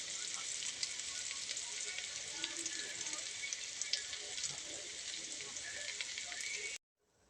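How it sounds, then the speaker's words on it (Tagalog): Onion and ginger sauté in oil for gatang laing, a steady close sizzle with faint stirring scrapes that runs unbroken for about seven seconds before cutting off abruptly. "Hinalo na rin natin yung sibuyas at saka yung luya mga idol."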